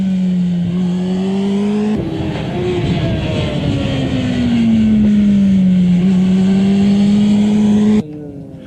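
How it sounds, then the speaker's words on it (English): A motorcycle engine revs and pulls steadily as the throttle opens, loud and close with a rising, sustained drone and wind rush, briefly easing before building again, then cutting off near the end. "Watch both lines to see where the gas comes back on."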